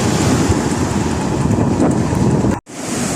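Strong wind roars across the microphone beside a rough sea, a loud constant rush with waves churning underneath, briefly cutting out near the end.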